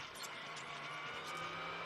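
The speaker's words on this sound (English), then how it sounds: "You can hear the cars gearing up." NASCAR stock cars rumble at Martinsville Speedway during the Cook Out 400 as the field lines up for the green flag, engines droning at a distance under crowd and broadcast ambience, faint and steady.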